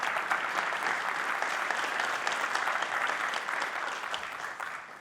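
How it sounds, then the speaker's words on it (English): Audience applause at a technology conference breakout talk, a steady wash of clapping from many hands that holds for about five seconds and eases slightly toward the end, with no voices over it. "Round of applause for Brad"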